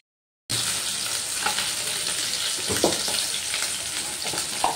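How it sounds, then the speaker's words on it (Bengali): Fish frying in hot oil in a kadai for a Bengali fish curry, turned partway through cooking, gives a steady, close sizzle throughout with a few brief clinks and stirring knocks. "মাছগুলো এবার আমি উল্টে পাল্টে ভেজে নেবো"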